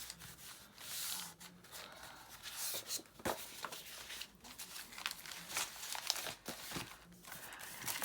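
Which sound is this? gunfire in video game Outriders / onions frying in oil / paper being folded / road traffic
paper being folded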